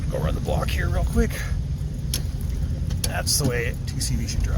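A Citroën 2CV with a 602 cc engine drives around a block, its small engine a low steady hum beneath someone talking.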